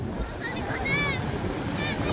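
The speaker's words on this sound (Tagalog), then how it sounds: "Laki ng alon." Big sea waves wash around a boat out on open water, a steady broadband surge with wind buffeting the microphone throughout, while people call out and talk over it.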